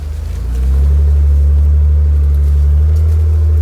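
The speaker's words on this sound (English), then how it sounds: "Four high, tooling along in some serious greasy shit." A Jeep Wrangler JK Rubicon in four-wheel drive pushes through greasy mud, its engine rising quickly to a loud, steady low drone that holds close throughout.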